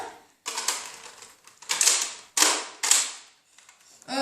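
A small magazine snapped into a Nerf blaster built like a sniper rifle, heard as several loud, close plastic clacks and scrapes separated by short pauses, with no talking.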